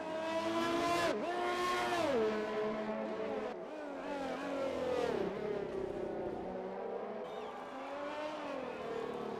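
An F1 race car in the F1 2020 video game laps Monaco, its high engine whine rising and dropping sharply through repeated gear shifts and braking, loud and continuous with no voices.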